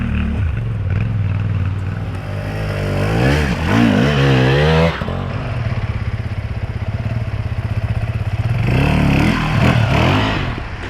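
A Yamaha Tenere T7 motorcycle engine revs hard and close on an enduro ride, with rising and falling pitch sweeps over a steady loud rumble.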